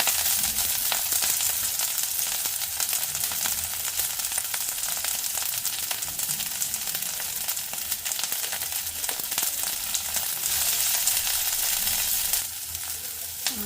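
Chopped capsicum sautéing in a pan on low gas for mushroom masala, a continuous dense sizzle with occasional soft stirring scrapes, close and alone without voices.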